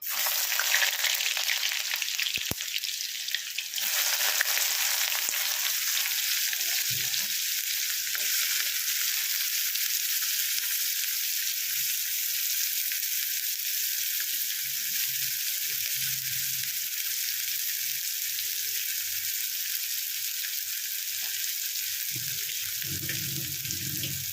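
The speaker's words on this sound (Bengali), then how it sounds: "পেঁয়াজটা ভালো করে ভেজে নেব।" Chopped onions hit hot oil in a wok, a loud steady sizzle and crackle that holds for the whole stretch, with faint clinks and stirring underneath and no talking.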